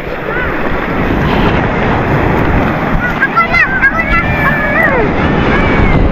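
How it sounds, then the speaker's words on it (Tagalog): Big ocean waves around a boat at sea, a loud rushing wash heavily buffeted by wind on the microphone. Faint shouting voices rise briefly over the roar in the second half. "Laki alon!"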